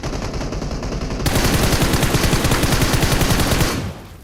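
Sustained automatic gunfire in PUBG Mobile sprays a vehicle in a loud, rapid, even burst of shots that runs for several seconds and then cuts off, with no talk over it.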